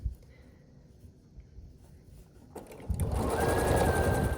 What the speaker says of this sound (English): so I'm sewing the first 2 columns together